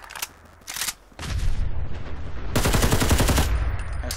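Gunfire from a modded weapon in Fallout 4, a few quick bursts and then sustained rapid automatic fire, loud and close, with dense repeated shots.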